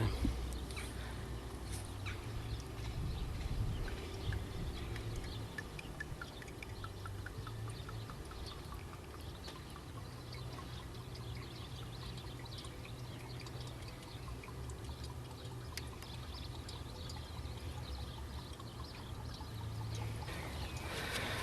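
5W40 engine oil poured into the engine of a BMW E46 318i, a faint continuous glugging trickle running steadily for the whole stretch with no talking.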